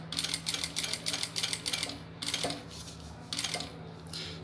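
A sewing machine stitches along the seam of a bag frame, giving a steady run of rapid rhythmic clatter in regular bursts with short pauses, over a constant low motor hum, fairly quiet.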